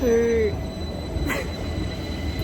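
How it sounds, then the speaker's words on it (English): A train in Amsterdam rolls along with a low rumble after a brief high wheel squeal at the start, followed by a steady interior drone and a short clank, with a voice speaking briefly. "So I just got on the train."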